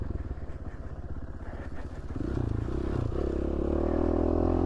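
A trail motorcycle running on an Idaho mountain trail near Cascade, its engine chugging in a rapid steady pulse close by, then revving up and holding a louder, higher drone with some clatter.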